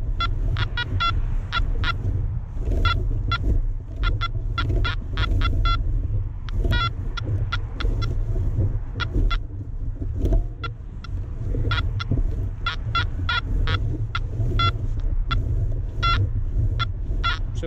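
A Makro Multi Kruzer metal detector in 4-tone mode gives rapid, repeated electronic beeps of varying pitch over a constant low outdoor rumble, with no speech.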